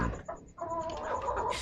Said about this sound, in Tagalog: Tandang yan.